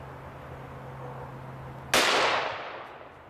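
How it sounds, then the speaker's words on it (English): A .500 Magnum revolver fires one shot at a mask during a bulletproof face mask test, a single loud blast that rings out and decays over about a second after a quiet outdoor hum. "Let's shoot Lieutenant Dan in the face with a 500 Magnum"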